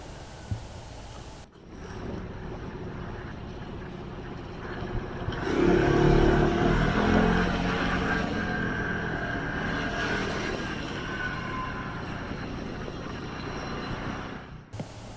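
A motorbike or scooter engine running steadily at idle, a continuous close rumble that swells in the middle and holds on without a break.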